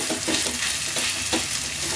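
Potato masala is stirred in a hot pan for a wheat masala dosa filling, giving a continuous sizzle with soft, repeated scraping strokes close up.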